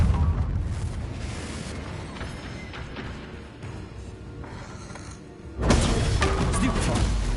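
A Confringo explosive curse goes off in the Hogwarts Legacy video game, a sudden loud boom near the end that follows a stretch of rumbling game noise and continues as a sustained roar, with a person talking over it.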